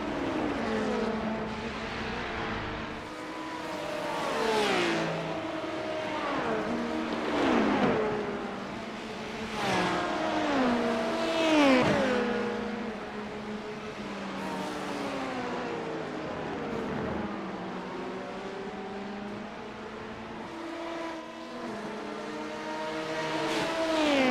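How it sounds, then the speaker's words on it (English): LMP2 and GT3 race cars in the iRacing game, engines rising and falling through gear changes in repeated revving sweeps, loud and continuous with no one talking. "That black and yellow LMP2 car is now right on our tail again."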